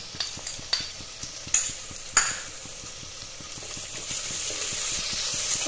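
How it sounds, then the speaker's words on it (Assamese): Ginger garlic paste stirred in a frying pan for a local chicken curry cooked in a pressure cooker, rapid rhythmic spatula scraping over a soft sizzle with a few louder knocks early on, then a rising hiss. "এইখিনি অলপ লৰাই ল'লোঁ। তাৰপিছত ইয়াতে দি আদা নহৰুৰ পেষ্টটো"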